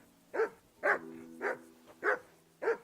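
A dog in the game Kingdom Come: Deliverance 2 gives five quick, even barks, close and clear, spaced about half a second apart with nothing else over them.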